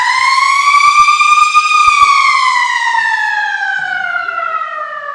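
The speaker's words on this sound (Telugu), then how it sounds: "సో ఆల్మోస్ట్ ఒక సైరన్ మోగింది" A wailing siren at Indrashil University marks the change of class period. A single long, loud rising-and-falling tone holds and then slowly drops in pitch, with faint thumps underneath.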